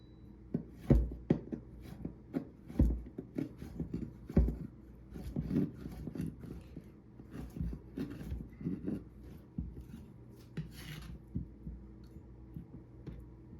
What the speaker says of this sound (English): the first thing you're going to want to do is chop up your banana